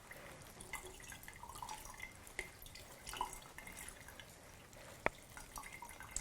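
Liquid drips from herbs squeezed by hand in a tight-weave cotton gauze muslin cloth while making herbal honeys and syrups; soft, scattered drips and trickles run quietly throughout, with one sharper drop near the end.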